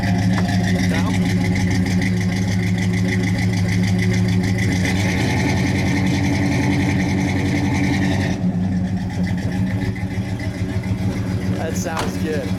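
The V8 of a 1970 Pontiac Grand Prix Model J idles with a steady, loud, throbbing rumble, then comes a brief blip of revs near the end, with someone speaking faintly under the engine.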